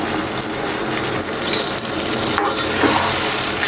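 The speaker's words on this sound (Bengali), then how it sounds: "আমি এদিক দিয়ে ছোট ছোট আলু টমেটো আর বেগুন দিয়ে দিয়েছি। এখন কিছুক্ষণ কষিয়ে নেব" Prawns with potatoes, tomatoes and eggplant frying in a pot, giving a continuous dense sizzle with scraping stir noises throughout and no voices.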